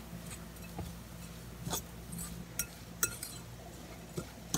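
Quick stirring of a salmon patty mixture with Ritz crackers in a bowl, giving faint, scattered clinks and scrapes of a utensil against the bowl with soft gaps between.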